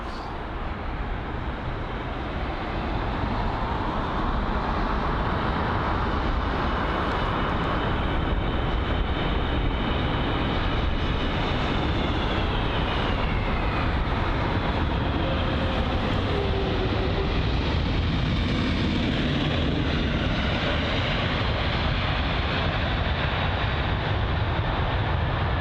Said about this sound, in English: Runway 27 right for its arrival into London Heathrow.